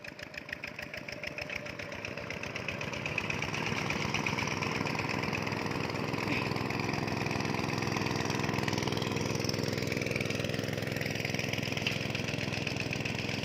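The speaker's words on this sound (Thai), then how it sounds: "อยากเบิ่งรถไถอยากเบิ่งใกล้ๆ" A diesel tractor engine with a cracked exhaust pipe starts and settles into a steady, rumbling idle with a rapid knocking pulse, loud and close.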